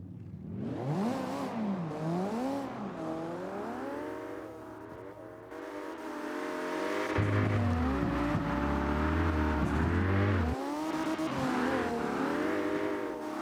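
Slide-style drift cars at a King of Slide Style 2023 event, their engines revving and rising in pitch again and again, loud and close and continuous, with heavy low rumble and swells as the cars accelerate.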